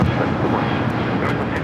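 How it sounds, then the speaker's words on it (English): Air New Zealand Boeing 777-300ER arriving from Auckland on runway 25 Left at LAX, a steady broadband jet roar holding loud and even throughout, with no voices over it. "Air New Zealand, the 777 at 300ER coming up from Auckland, arriving here on the south side."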